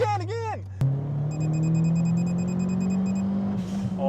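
A modified Mitsubishi Colt Ralliart engine revs hard, its pitch climbing steadily in one long pull after a short speech-like sound at the start, with a repeating electronic beep sounding above it.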